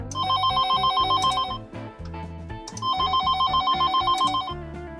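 A restored TAP 80K telephone's bell rings in two loud, rapid trilling bursts separated by a short pause, close up and clear with no talk.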